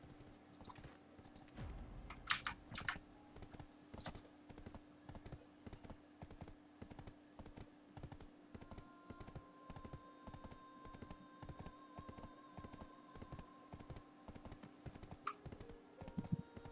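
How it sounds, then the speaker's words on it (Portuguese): A horse's hooves clip-clop at a steady, even trot in the online role-playing game Black Desert Online. The beats are evenly spaced and moderately close, with a few sharper clicks early on, and there is no speech. "Cavalo!"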